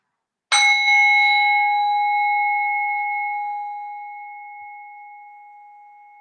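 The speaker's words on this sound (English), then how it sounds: "In a moment, you'll hear the sound of a bell." A single bell struck to end a restorative yoga practice, a clear ringing strike that rings on and slowly fades over several seconds in a quiet room.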